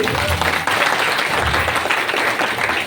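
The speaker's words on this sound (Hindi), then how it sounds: "उन लोग खड़े होकर एक बार जोरदार अपने लिए ताली बजा दीजिए" A crowd claps loudly and steadily at an award show in Durg, a dense wash of applause lasting the whole stretch, with faint voices under it.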